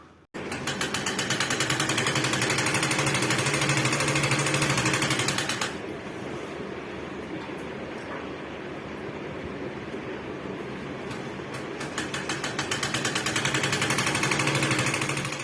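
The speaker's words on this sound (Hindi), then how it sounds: "अब बस चादर में सिलाई लगाना बाकी है, तो इसे भी कर लेती हूँ" A sewing machine stitches a bedsheet at home, giving a rapid, steady mechanical chatter. It stops partway through, leaving a quieter hum, then starts stitching again near the end. No one speaks.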